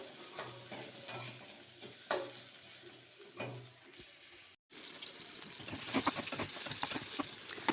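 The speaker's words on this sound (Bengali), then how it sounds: "এগুলো একটু কড়া কড়া ভাজতে হয়" Food fries crisp in hot oil while being stirred, with a steady close sizzle broken by scraping and clattering utensil strokes and a brief cut partway through.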